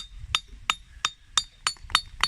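Hammer strikes on a hard jade rock ring out sharply like steel on an anvil, seven evenly spaced bright clinks over a low background rumble, close and distinct with no talk.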